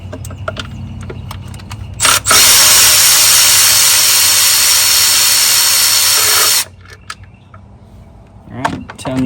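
A power tool, likely an impact driver, backs out 10mm bolts on a Ford Powerstroke diesel engine, running in one loud sustained burst of a few seconds between quieter clinks and handling noises up close.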